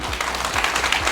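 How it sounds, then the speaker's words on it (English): An auditorium audience at a parenting talk claps continuously, a dense, even wash of many hands close by that holds steady for the whole moment without talking. "I need more claps"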